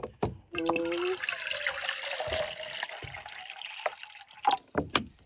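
Water is poured into a pot for boiling at a camp on the Sonoma Coast, a steady close pour with clinks and knocks of the container at start and end.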